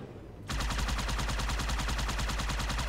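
Vehicle-mounted guns firing in the video game Halo 2 during vehicular combat, a loud, sustained rapid stream of automatic shots that kicks in abruptly after a brief quieter moment and continues without pause.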